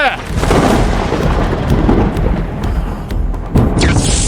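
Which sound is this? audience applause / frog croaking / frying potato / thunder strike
thunder strike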